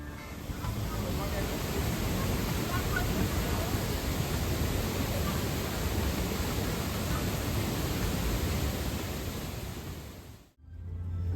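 Steady, dense rushing water roar of a waterfall reached by dinghy past mangrove forests on Mauritius, loud and continuous throughout before cutting off abruptly near the end.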